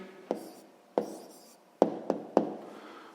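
Handwriting an answer with a pen on paper during a sixth-grade maths exercise, a few soft scratchy strokes and five distinct taps of the pen, close and quiet, with no talk.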